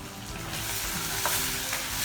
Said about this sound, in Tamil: வெங்காயம் வதக்கிட்டே இருக்கிறப்ப தக்காளியும் ஆட் பண்ணிக்கோங்க